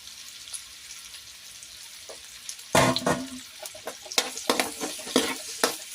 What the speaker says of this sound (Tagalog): lutuin muna natin ang onion at saka garlic